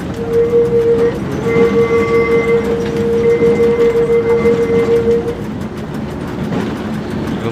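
An old tram drives in the OMSI 2 video game, a loud continuous rumble of rolling wheels with a sustained tonal whine or horn-like tone that fades after about five seconds, leaving a quieter running noise.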